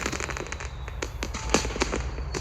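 A Samsung Galaxy A53 phone plays an artificial fireworks effect: rapid crackling pops and bangs burst in quick irregular succession, sharp and fairly loud, with no talking.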